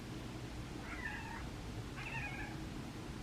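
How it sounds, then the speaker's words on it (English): Two drawn-out cat meows about a second apart, fairly faint, over a steady low background hum. "the two of them like to meow at each other"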